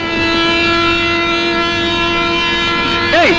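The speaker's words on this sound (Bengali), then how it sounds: "ট্রেন ছেড়ে দিবে।" A train stands at a station, its loud steady drone with a sustained horn-like tone filling the scene, ending in a brief wavering whistle.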